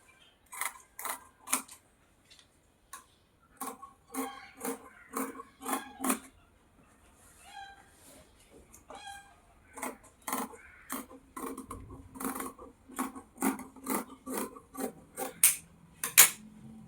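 Scissors cut through blouse lining fabric in repeated crisp snips, grouped in quick bursts of three or four with short pauses between, close and clear against a quiet background.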